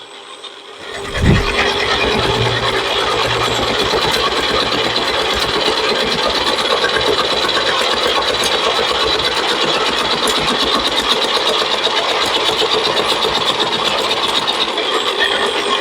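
An electric vegetable cutter machine chopping carrots, a loud continuous motorised whirring and rattling that starts after a brief thump and runs steadily throughout, no voices.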